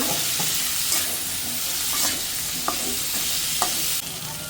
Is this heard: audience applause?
no